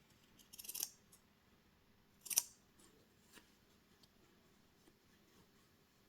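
Scissors snip diagonal notches into sweatshirt fabric close to the seams, giving two crisp, quiet cuts a second or so apart, followed by faint rustling and a final small snip.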